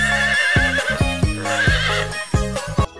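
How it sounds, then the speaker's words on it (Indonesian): A kuda renggong, a dancing horse, neighs and whinnies repeatedly in loud, close, rhythmic bursts, with several harsh calls in quick succession and brief pauses between them. "Ini kuda renggong."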